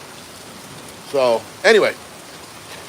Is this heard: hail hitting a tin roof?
yes